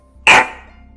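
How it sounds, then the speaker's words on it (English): A single sharp dog bark, loud and close, stands alone against a quiet background in a horror-themed family diner game. "Did you bark at me?"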